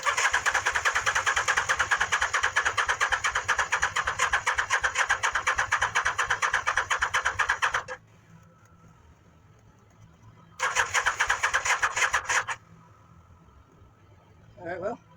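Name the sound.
Mini Baja truck engine cranking, trying to start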